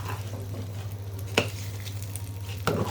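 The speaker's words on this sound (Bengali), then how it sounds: "এখন আমি সুন্দর করে মিশিয়ে নেব।" Vegetable khichuri being stirred in a pot, a steady soft sizzle running throughout with two sharper scraping clicks of the spoon against the pot, close and fairly quiet.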